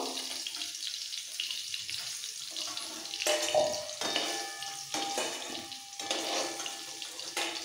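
Potatoes fry golden brown in oil in a pan for a potol-prawn dish, giving a steady, soft sizzle with a few brief scrapes and clinks, no voices.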